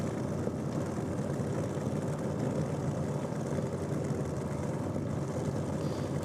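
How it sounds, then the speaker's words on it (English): A Fiat Topolino drag racing car backing up in the pre-stage area at a drag racing event, giving a loud, steady, rumbling engine drone that stays even throughout with no speech. "We can see Walford backing up in this Fiat Topolino"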